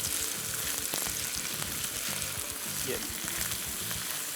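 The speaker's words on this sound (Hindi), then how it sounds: "प्रॉपर तरीके से इसको आपने जो है ना भून लेना है" Half a kilo of minced meat frying with onions in a pan gives a steady, close hiss and crackle with scraping stir strokes, while a voice speaks briefly.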